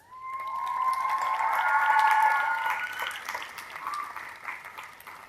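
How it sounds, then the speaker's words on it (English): A crowd at a university commencement ceremony applauds, the clapping swelling and then fading across several seconds under a sustained tonal hum, with faint cheering mixed in. "Let's take a moment and offer them a round of applause."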